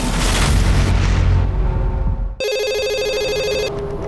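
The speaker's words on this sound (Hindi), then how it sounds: "उस पागल का फोन फिर से आया है" A telephone bell rings in a loud, rapid electronic trill that starts abruptly after a deep rumbling boom and continues for over a second.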